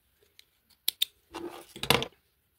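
Scissors snip crochet yarn close by, two quick sharp clicks followed by a longer rustling cut and a final crisp snip, set against a quiet room.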